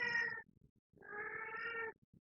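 A cat meows twice near a gathering of people, one short call then a longer drawn-out one, clear and close with quiet in between.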